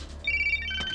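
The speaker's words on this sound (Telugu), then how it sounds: "అరే రింగ్ అవుతుందిరా" A phone ringtone sounds briefly indoors, a short bright electronic melody of a few tones, fairly clear with little else around it.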